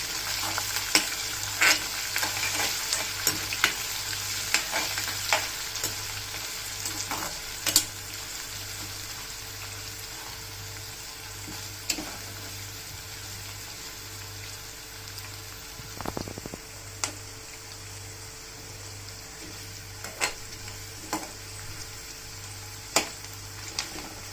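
Green chillies fry in oil for murmura chivda, a steady background crackle and sizzle with a low rhythmic hum underneath. Scattered sharp pops and stirring clicks sound throughout.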